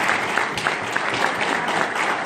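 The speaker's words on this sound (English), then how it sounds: "So may I join me in applauding?" An audience at a chamber of commerce event applauding, a dense, steady burst of clapping from many hands close by.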